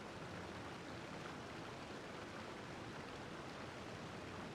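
Waterfall in Genshin Impact, a faint, even rush of falling water that holds steady throughout with no voices.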